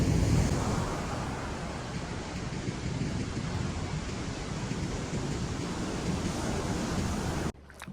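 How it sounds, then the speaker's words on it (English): Heavy ocean surf rolls and crashes continuously at Gemstone Beach, a loud broadband roar with wind buffeting the microphone, cutting off abruptly near the end. "Look at those waves."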